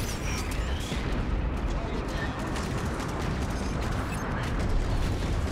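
Rapid spaceship gunfire in the space combat game Strike Suit Zero, a dense, continuous rattle of shots layered over a roaring battle din, loud and sustained throughout.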